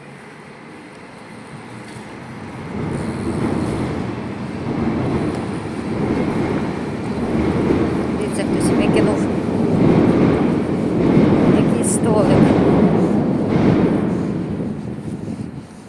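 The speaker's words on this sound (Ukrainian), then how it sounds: "Знову поїзд їде десь." A train rumbles past nearby in a long swelling roar that builds and holds, heard outdoors near a bridge while someone talks over it.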